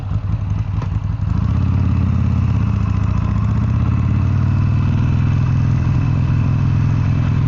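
Buell Lightning motorcycle engine running at an easy, warming-up pace on a ride, a loud, steady low rumbling throb with a slight clatter, continuous and close throughout with no talk.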